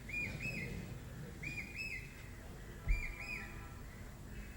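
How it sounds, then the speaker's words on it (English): A persistent bird keeps repeating its whistled two-note call in regular bursts, distant and soft against low background rumble, with one dull knock midway and no talking. "That bird is very persistent."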